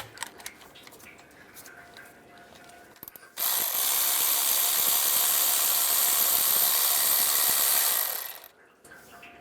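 An 8mm socket on a ratchet backs out a bolt while a 2002-2008 Dodge Ram 1500 water pump bypass tube is being replaced. A loud, continuous mechanical whir runs for about five seconds, then cuts off abruptly.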